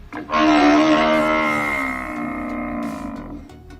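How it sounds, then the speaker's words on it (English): A water buffalo gives one long, low, bellowing call that gradually fades, loud and close, with no voices, played by Google Assistant. "Here's a water buffalo."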